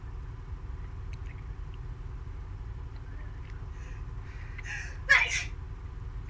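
A single short sneeze during an online Euro Truck Simulator 2 multiplayer session, sounding fairly near over a steady low engine rumble and quiet background noise.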